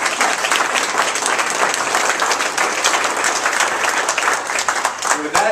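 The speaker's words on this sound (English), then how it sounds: "Please give those partners and sponsors a big round of applause." An audience applauds partners and sponsors at an education event, loud, dense clapping that sustains evenly for several seconds from a close, full room.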